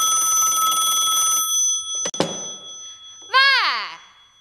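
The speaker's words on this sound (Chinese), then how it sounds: "你看没，这电话。" An old telephone rings steadily in a home in a period drama, then stops with a thunk as it is picked up, followed by a voice.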